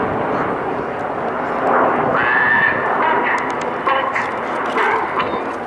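Red Arrows jets roar overhead during a display manoeuvre at an air show, a loud sustained engine rush swelling and fading as they pass, with crowd noise beneath.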